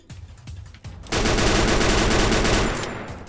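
Rapid automatic gunfire in the Free Fire video game, preceded by a few separate shots and then a loud, sustained burst close up.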